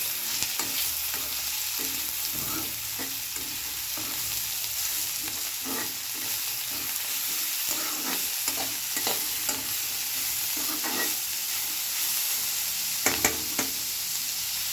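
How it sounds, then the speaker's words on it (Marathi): Shredded cabbage stir-fried with salt and chili in a pan with turmeric, a steady sizzling hiss broken by repeated scraping stirs that run close and unbroken throughout. "मग मीठ मिरची घातलं तर छान परतून घेऊ"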